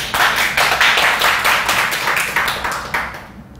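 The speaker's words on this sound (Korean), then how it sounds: "이렇게 박수." Listeners at a lecture clap together, a loud, close, rhythmic run of hand claps falling into a steady beat for a few seconds before stopping abruptly.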